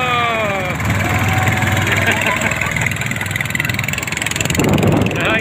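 A boat motor hums and putters steadily beneath voices chatting nearby in a mangrove forest, with water and wind noise throughout.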